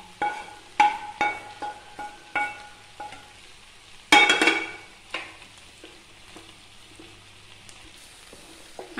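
A vegetable curry with coconut paste is stirred in a pan, a spoon scraping and knocking in a series of sharp strokes over a soft sizzle, with a louder burst midway.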